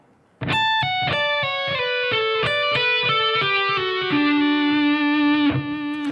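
A distorted electric guitar plays a quick lick of hammered and picked notes, ending on a sustained, buzzing held note. Loud and close, with no voices.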